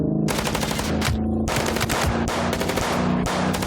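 Rapid bursts of gunfire from the Chicken Police video game, loud and repeated in several clusters with brief gaps between volleys, rattling like automatic weapons fire.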